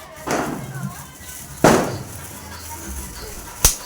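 Firecrackers bursting during Diwali celebrations: three sharp bangs spaced well apart, the middle one loudest, over a steady noisy outdoor background with no close talk.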